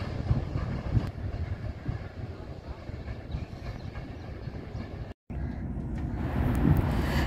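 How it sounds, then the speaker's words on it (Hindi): A loaded coal train hauled by a GU40 locomotive rolls through a railway station, a steady loud rumble of wheels and wagons running throughout with a brief dropout, brightening toward the end. "सामने से आ रही है डाउन MT यूसुफ वाला कोल ट्रेन GU40 के साथ"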